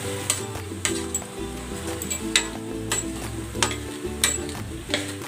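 Cabbage and other vegetables cooking in a pan with a little broth for bihon noodles, a steady close sizzle with stirring scrapes and clinks of a utensil against the pan, no talking.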